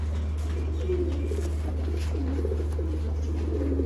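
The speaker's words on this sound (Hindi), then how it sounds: "नायाब की कैटेगरी के सियालकोटी कबूतर, ना मिलने वाले सियालकोटी कबूतर इस टाइम पे आपकी स्क्रीन पे मौजूद" Sialkoti pigeons cooing close by, a series of soft, repeated throaty coos over a constant low electrical hum, with no talking.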